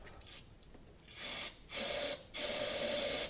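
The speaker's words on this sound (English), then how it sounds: "Now we're not gonna do too much starting fluid here." Starting fluid hisses from an aerosol can into the intake of a 1985 VW Golf Wolfsburg Edition barn find engine, in two long close sprays after a quieter rustle, with no talking.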